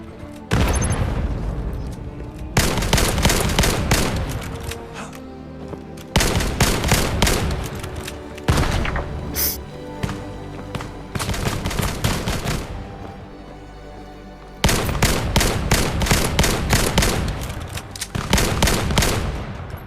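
Gunfire in the VR shooter game Vail on Meta Quest 2, with repeated loud bursts of rapid automatic fire and booming shots separated by short pauses, close and dominant throughout.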